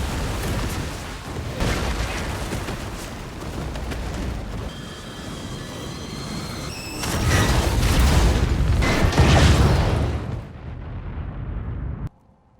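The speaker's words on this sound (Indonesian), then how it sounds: "Caesar meledakkan bahan kimia yang menghancurkan tembok beserta para pasukan" A chemical explosion blows apart a wall in a war film, with heavy rumbling booms, a building roar that swells to a loud peak near the end, then cuts off abruptly.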